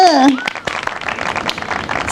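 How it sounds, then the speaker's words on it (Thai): An applause sound effect in the opening of a Thai home-cooking show: a dense, steady patter of many clapping hands right after a brief voice, holding at even loudness to the end. "เทปปรบมือ"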